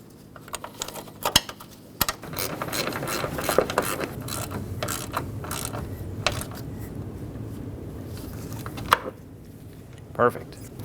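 Ratchet wrench clicks tighten radiator mount bolts on a 2011-2016 Ford F-350 with the 6.2L V8, quick repeated ratcheting bursts with scattered metallic taps and knocks, close up.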